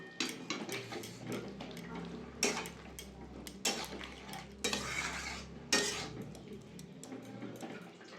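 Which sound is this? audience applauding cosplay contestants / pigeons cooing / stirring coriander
stirring coriander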